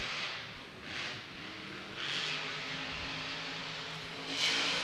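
A monster truck engine revs hard during a freestyle run at a Monster Jam event, with repeated rising roars and whirs that swell and fade as it surges, heard from some distance over crowd noise.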